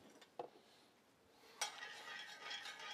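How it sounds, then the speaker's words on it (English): Heavy cream is stirred in a cooking pan, a faint scraping swirl with a couple of light clinks of the utensil against the pan, then a soft sizzling hiss. "Then we give it a stir."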